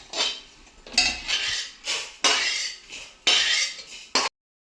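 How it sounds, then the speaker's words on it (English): A metal spatula scrapes browned, roasted food out of a pan in several rough bursts, each a harsh clattering scrape, close and fairly loud, with short gaps between and silence at the end. "Now we are removing it from the pan."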